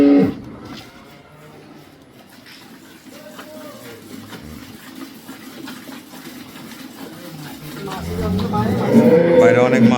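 A dairy cow moos in a long low call that swells toward the end, rising over a steady, noisy background of rustling and movement.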